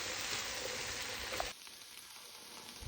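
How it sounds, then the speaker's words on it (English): Two bags of frozen vegetables heat and get stirred in a pan for a homemade chicken pot pie, giving a steady broadband sizzle that drops to a quieter, sparser crackle halfway through. "I got both bags of my frozen vegetables in the pan, and I'm just going to mix these up and stir them up till they get warm"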